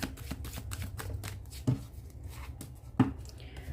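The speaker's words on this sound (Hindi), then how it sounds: "last shuffle Prabhu" Tarot cards being shuffled by hand, a soft riffling texture with two sharper snaps near the middle and end, close and fairly quiet with no talking.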